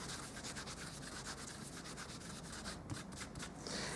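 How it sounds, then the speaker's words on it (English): An embossing buddy rubbed back and forth over a stamped Christmas card image, giving a steady, close, soft scuffing texture with repeated strokes throughout, no voices. "grab my embossing buddy, and we're just going to go over the top of that whole image there"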